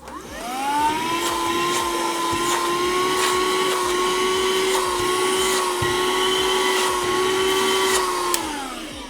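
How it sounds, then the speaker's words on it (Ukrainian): A small 12-volt BREVIA car vacuum cleaner motor whirs steadily at a high, even pitch for several seconds, then spins down at the end. "Зараз ми пилосос під'єднаємо на 12 вольт ну і послухаємо, як він буде працювати."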